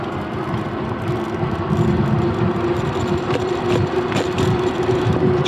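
Electric hub motor of a NAKTO Santa Monica e-bike running on throttle at level 3, a steady low hum and whir with rolling road noise, continuous and fairly close, with no talking.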